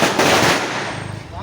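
Firecrackers crackle and burst in quick succession at a Ganesh Chaturthi street celebration, loud and close, over crowd noise and raised voices.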